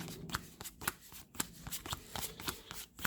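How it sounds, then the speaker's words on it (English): Board game playing cards for NATO Air Commander are shuffled by hand close up, with a quick, rhythmic series of crisp riffles and slaps repeating throughout. "Shuffle the cards."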